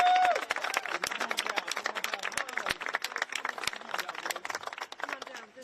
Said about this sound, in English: One more round of applause for the Reverend.